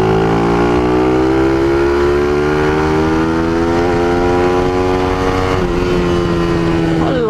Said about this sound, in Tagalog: Maingay yung tambutso guys.